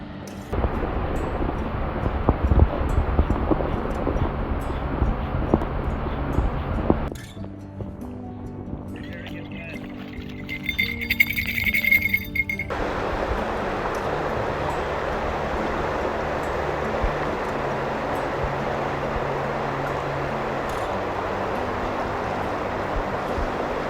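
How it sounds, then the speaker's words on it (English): A frigid creek with white water, the West Fork of Cherry Creek, roars steadily up close, cutting out briefly to a quieter stretch before the loud flowing returns. "Water's just really flowing through there right now."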